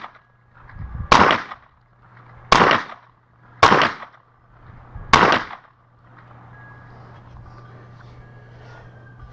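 A Ruger PC9 carbine loaded from a Pro Mag magazine fires four loud, evenly spaced shots outdoors, each a sharp crack with a short decaying tail, followed by quiet low background hum.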